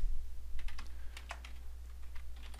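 Keys on a computer keyboard are tapped in short, quick bursts of soft clicks against a low steady hum, fairly close and quiet, with no talk.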